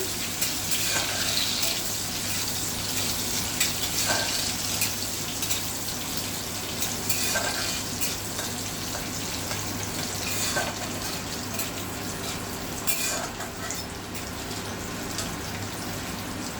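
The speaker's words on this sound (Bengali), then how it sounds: "এখানে আমি জিরে শুকনো লঙ্কা তেজপাতা ফোড়নে দেব এটাকে এক মিনিট ভেজে নেব" Cumin seeds, dried red chillies and bay leaves tempering in hot oil, a continuous even sizzle with faint occasional spoon taps, no talking.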